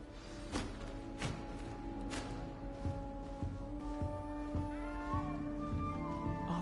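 A cat meows repeatedly in Hogwarts Legacy, with short plaintive calls over a busy game background of ambient sound and music, fairly faint.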